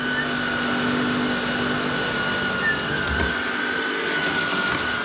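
A Dreame Z30 cordless vacuum cleaner fitted with a soft brush runs along edges, a steady whine with a high tonal hum and airflow rush, close and continuous with no voices.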